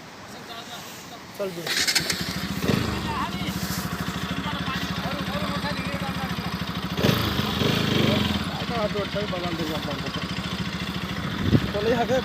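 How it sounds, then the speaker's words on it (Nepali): A motorbike starts up and labours over a rough, muddy riverbed trail, its engine putting steadily under bumps and surges, with people talking over it now and then. "जान्छ बाइक"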